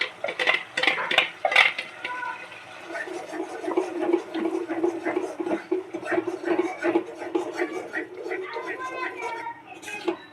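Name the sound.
tomato puree being added and stirred in a pan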